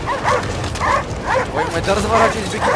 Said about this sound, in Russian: Собаки испугались гудения.